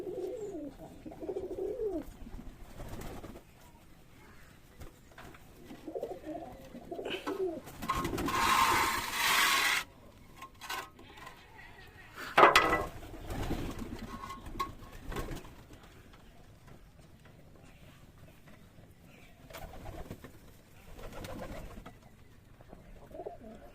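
Racing pigeons in a loft coo repeatedly in low, throaty phrases, with brief bursts of fluttering or rustling noise in between; no speech.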